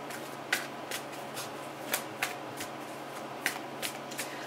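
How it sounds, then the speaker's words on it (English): Tarot cards riffle and slap down softly at close range, several sharp flicks and snaps spaced irregularly over a faint room hum, with no talking. "I'm actually going to put down a few more cards."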